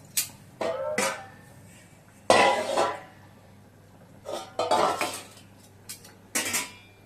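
Metal cookware clinking: a ladle knocking against a pot and lid in several sharp, separate bursts, close by, with a low steady hum beneath, while cooking Nellore fish curry.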